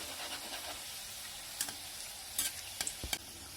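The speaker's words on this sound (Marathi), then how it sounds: "आपल्याला ह्या मंद आचेवरती तळून घ्यायचे आहे जेणेकरून आतपर्यंत व्यवस्थित तळले गेले पाहिजे." Champakali pastries fry in oil over a low flame with a soft, steady sizzle. A few sharp scrapes and clinks from stirring or turning them sound close by, and no one speaks.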